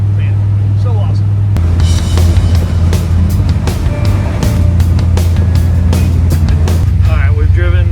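A 60-year-old truck cruises down the highway at around 75 mph with a loud, steady low engine drone and road rumble throughout, while someone talks over it the whole time.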